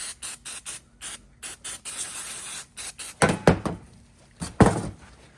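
Short bursts of brake cleaner spray hiss on and off in a quick rhythm on a Land Cruiser's front brakes, followed by a few louder, closer blasts with clunky handling noises.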